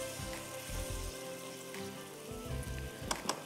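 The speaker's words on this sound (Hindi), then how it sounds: "काजू और किशमिश है मेरे पास, वो भी जाएंगे" Cashews and raisins fry in an oil-filled pan, giving a soft, steady sizzle with a few light crackles near the end.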